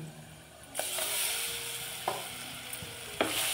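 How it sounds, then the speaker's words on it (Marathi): Chicken sautéed in oil sizzles with a continuous bright hiss, broken by three scraping strokes of a spatula across the pan at roughly one-second intervals, close up with no talk. "ह्याचा पण जरा चांगला परतून घेऊया थोडासा."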